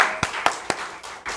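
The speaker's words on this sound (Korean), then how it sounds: "우리 다시 한번 하나님께 영광의 박수 올려드리겠습니다." A church congregation claps in praise during a worship service, with a few sharp, distinct claps spaced roughly a quarter second apart, close and moderately loud, with no talking over them.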